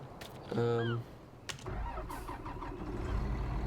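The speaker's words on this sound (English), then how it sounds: "This is the biggest Claas tractor. Sounds pretty good too when it starts up." A large Claas tractor engine in Farming Simulator 19 starts up: a brief starter tone and clunk, then the engine catches into a low, steady rumbling idle, moderately loud and close.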